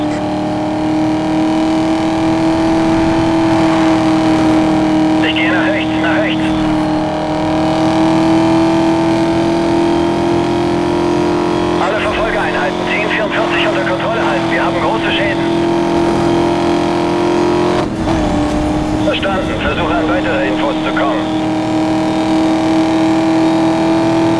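Cars racing at high speed in Need for Speed Most Wanted (2012), a steady loud engine drone with rising revs and swells, while a police radio voice talks over it.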